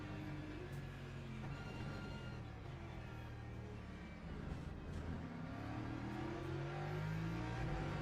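A BMW race car in a racing video game accelerates hard out of a corner, its engine droning steadily and rising in pitch toward the end, loud and continuous with no talk over it.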